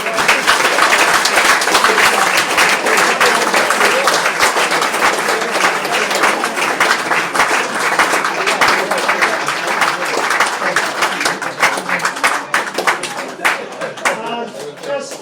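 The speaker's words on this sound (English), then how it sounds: "So can we have a round of applause?" An audience at the Liverpool pairs quiz final breaks into a long round of applause, loud and dense at first, gradually thinning into scattered claps toward the end.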